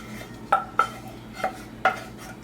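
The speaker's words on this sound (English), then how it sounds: "And you stir it around." A spoon scrapes and clinks against a pot while macaroni and cheese is stirred, with four distinct knocks spaced across a couple of seconds over a quiet low hum.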